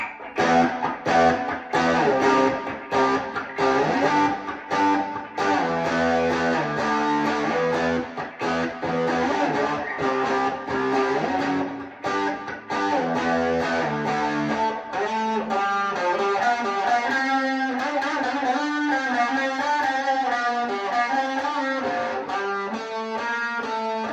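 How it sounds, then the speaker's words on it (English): Heavily distorted electric guitar fed through a Dark Matter distortion pedal plays loud, choppy rhythmic chords with sharp stops, then shifts into longer ringing sustained notes, close and unaccompanied. "And I've got the dark matter distortion"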